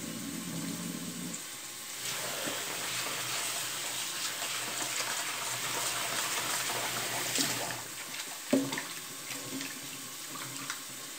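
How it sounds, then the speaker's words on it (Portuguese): Water running steadily as brown rice is drained and rinsed, a continuous close splashing stream with a short clatter near the end. "vou escorrer a água do arroz e dar uma lavada nele"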